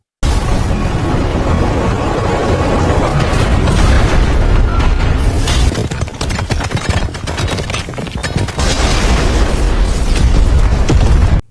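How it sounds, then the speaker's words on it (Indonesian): An overheating robot explodes with a loud, sustained roar, crackling bursts and rumbling debris, dipping briefly before surging again. "robot itu mengalami overheat hingga akhirnya meledak dan hancur"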